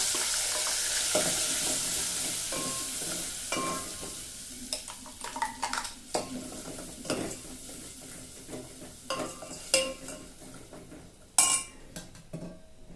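A soft sizzle of red chilli powder and spices in oil in a pan under repeated scraping and clinking of a spoon stirring against metal, irregular and close.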